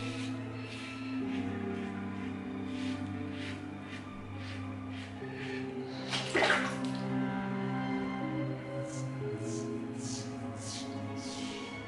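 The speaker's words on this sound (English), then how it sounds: "Now when I rinse the razor" A safety razor is rinsed under running tap water, with a steady, moderate flow of water, a brief louder splash midway and faint dripping.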